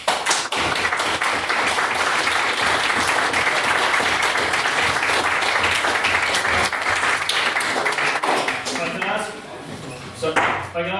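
A full room of debate audience members claps steadily after a speech on the Irish Famine, a loud, continuous wash of applause that thins out toward the end, where a voice starts talking.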